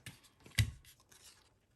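Paper strips for a strawberry card are trimmed in a few soft, quick snips and rustles, one sharper cut standing out before the sounds fade to quiet.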